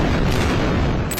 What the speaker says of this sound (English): A massive explosion at the largest refugee camp in Gaza.